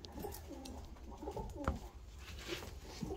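Low, soft pigeon cooing repeats in a slow rhythm, close by, against a steady rustling outdoor background.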